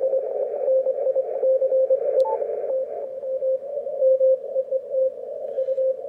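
A steady, narrow radio tone plays from a transceiver with DSP noise reduction set at 15, a clean processed signal holding continuously over a nearly silent background with slight wavering.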